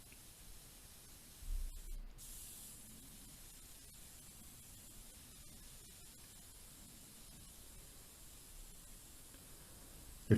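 Wood dye is sprayed on in light coats, producing a faint, steady airy hiss that runs throughout with only brief small bumps.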